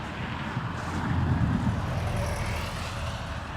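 Jet aircraft at Dublin Airport, a steady broad engine roar that swells slightly midway and holds on, heard from a distance with no talk.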